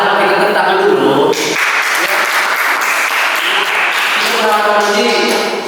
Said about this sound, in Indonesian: Ya, bolehlah kita tepuk tangan dulu.